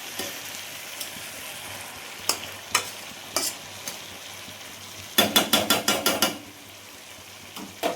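Chicken for kasa sautéing as its released water cooks down, a low steady sizzle punctuated by sharp spatula knocks on the pan, including a quick burst of rhythmic taps near the end.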